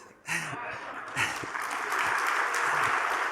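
Audience applause at a Standard Chartered digital banking event rises after a brief quiet moment and continues steadily, with a few voices and scattered sounds mixed in.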